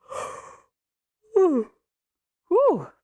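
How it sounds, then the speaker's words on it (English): A breathy exhale followed by two drawn-out, groaning vocal yawns, each rising then falling in pitch, separated by short silences. "I'm going to yawn again."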